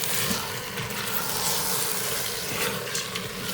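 Basmati rice being mixed into sizzling masala paste for chicken pulao, a steady loud hiss of frying with soft shuffling as it is stirred.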